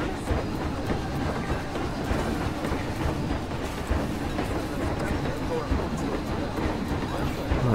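A train rolls past in the Planet Coaster theme-park building game, with a steady, dense rumble and rail clatter that stays loud for the whole stretch. Talk runs over it.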